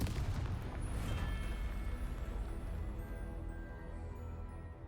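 Confringo spell blasts in the game Hogwarts Legacy, fought against a troll: a sharp blast at the start rolling into a sustained low rumble that slowly fades, fairly quiet overall.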